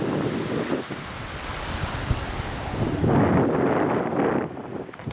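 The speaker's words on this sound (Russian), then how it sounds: "вот точно такой же ветер был" Strong wind blowing through a park, a steady loud roar with gusts that swell and buffet the microphone, constant throughout with no talking.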